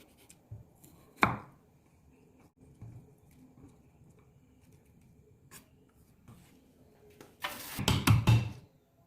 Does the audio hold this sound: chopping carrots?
yes